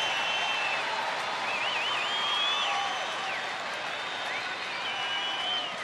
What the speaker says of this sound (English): Crowd rising behind Feldman.